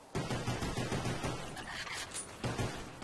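Rapid automatic gunfire in the Kino der Toten map of Call of Duty Zombies, with dense bursts of shots and brief pauses between volleys, loud and close.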